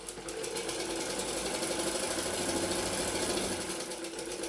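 A sewing machine runs steadily while stitching a dart on the front panel of a blouse, giving a continuous close, even mechanical whir with no pauses.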